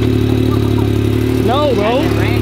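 A tuned Yamaha YXZ1000R side-by-side engine runs loud and close at a steady rumbling idle, with a voice speaking over it partway through.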